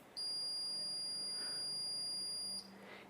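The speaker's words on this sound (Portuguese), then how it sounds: "se encostarmos as duas ponteiras do nosso multímetro, vamos ver que ele vai emitir um bip" A multimeter's continuity test gives a single high, steady electronic beep lasting about two and a half seconds as its probes touch, clear and close against a quiet background.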